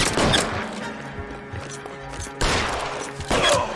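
Suppression gunfire in the L.A. Noire video game: dense bursts of shots that rattle on almost without a break, with loud peaks near the start and around the end. No voices are heard.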